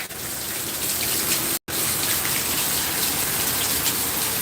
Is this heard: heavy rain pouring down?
yes